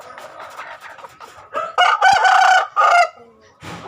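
A single rooster crowing nearby in a backyard, a loud drawn-out call with a couple of rising segments after some softer clucking, alone without talk.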